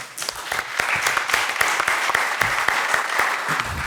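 Steady applause from a seminar audience, many hands clapping densely and continuously at moderate loudness for the full stretch, with no voices over it.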